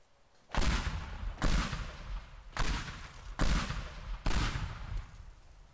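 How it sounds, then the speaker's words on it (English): Explosions and gunfire ring out in the destruction game Teardown, five heavy blasts arriving about a second apart, each with a sharp crack and a rumbling tail, fairly distant and with no voices. "They heard the explosions."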